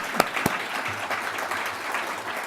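An audience at a regulation conference applauds its volunteers, a steady patter of many hands clapping from across the room, moderate and even, with a couple of sharper close claps near the start.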